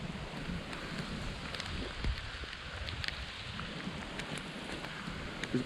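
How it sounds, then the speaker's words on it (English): Heavy rain falls outdoors during Hurricane Ian, a steady dense hiss with occasional gusts and a faint distant rumble, heard continuously without speech. "It's raining pretty hard."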